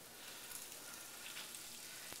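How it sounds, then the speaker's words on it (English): Two boneless, skinless chicken breasts lightly dusted with flour sizzle in a hot frying pan, a soft, even crackle that holds steady and fairly quiet throughout. "Hear that nice sizzling sound."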